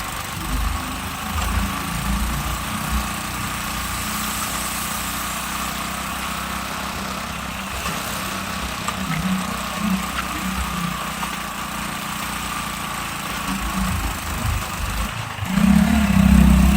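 Motorbike engine running steadily as the bike is ridden along, a continuous low drone with wind rush over it, fairly even in level, with a rougher bump near the end.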